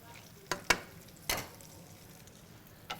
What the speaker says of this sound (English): Yeah, let it sizzle in a little bit.